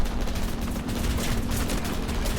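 A heavy 1000 kg bomb blast on a ship in the War Thunder naval battle game, heard as a steady rumbling roar with low booms and crackling debris, sustained throughout at moderate loudness.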